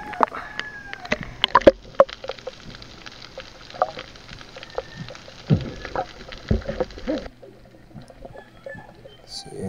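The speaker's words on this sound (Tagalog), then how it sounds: "Ang dami kasing manok dito mga idol habang nag-voice over tayo." Chickens clucking and a rooster crowing nearby, with scattered pecking and rustling sounds in an outdoor yard.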